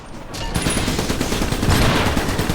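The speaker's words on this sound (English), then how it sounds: "We're taking fire." Dense, continuous gunfire from the video game Iron Brigade. It comes as a loud, rapid fusillade of overlapping shots that builds and holds throughout, with no voices.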